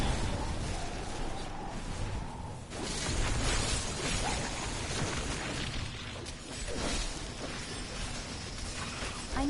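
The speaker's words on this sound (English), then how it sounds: "there are fireworks going off near me" Fireworks going off nearby, a run of loud booms and crackling bursts filling the background continuously under game sounds, with no talk.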